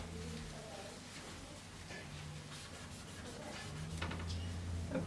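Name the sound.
rubbing off a portrait drawing on paper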